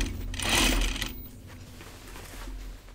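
Sewing machine stitching a jacket sleeve seam in a single short whirring burst, close and fairly quiet, fading to a low hum afterward.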